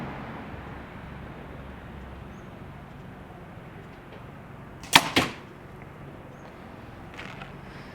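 Arrows shot from a PSE Evoke Lite compound bow strike a distant target in quick succession, a sharp double thwack over faint outdoor background noise.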